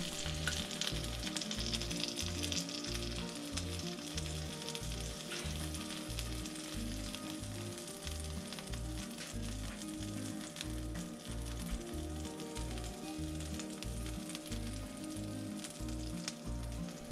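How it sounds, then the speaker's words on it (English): Steady frying sizzle close by as cornbread batter hits a hot cast iron cornstick pan, a bright continuous crackle of hot fat, with a low rhythmic hum pulsing underneath; no one speaks. "Hear that sizzle?"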